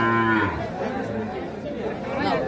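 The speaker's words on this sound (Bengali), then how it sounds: "শাহিওয়াল, ষাঁড় বাছুর" A Sahiwal bull calf, about four to five months old, moos loudly and close by at a busy cattle market, one drawn-out call with voices chattering underneath.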